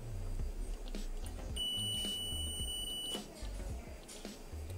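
A multimeter gives one steady continuity beep, about a second and a half long, while testing a microwave magnetron. The tone is fairly quiet over low background rumble.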